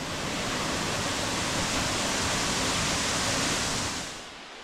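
Lick Branch Falls in the Sipsey Wilderness of Alabama pours in a loud, steady, broadband roar of falling water, heard up close and alone, easing off slightly at the very end.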